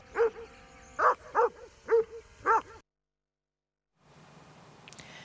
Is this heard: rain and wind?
no